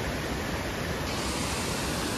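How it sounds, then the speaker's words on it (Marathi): A waterfall in heavy flood, its very strong flow making a loud, steady broadband roar that holds without pause throughout, close and continuous, with no voices. "आज पाण्याचा फ्लो खूप जास्त आहे"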